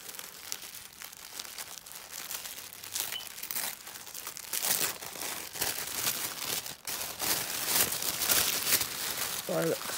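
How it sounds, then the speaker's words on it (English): Yellow paper wrapping around packs of diamond painting drills crinkles and rustles steadily, close up and growing louder over ten seconds, with bursts of crumpling and tearing during an unboxing. "So, excuse the rustling."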